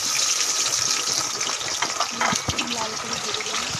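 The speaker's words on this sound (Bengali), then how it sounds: "পেঁয়াজটা লাল করে ভেজে নেবো" Onions sizzling in hot oil with bay leaf, cloves, cinnamon and cardamom, a steady dense frying hiss close by that runs throughout with a few faint knocks.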